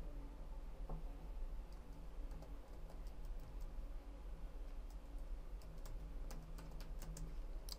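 Someone types a network-scanning command on a computer keyboard: faint, quick key clicks come in scattered bursts over a steady low background hum, with no talking.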